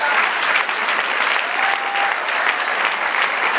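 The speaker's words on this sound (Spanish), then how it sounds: "Den un aplauso al Señor." A church congregation applauds the Lord with steady, dense clapping that fills the room at full volume, continuing evenly throughout without any speech.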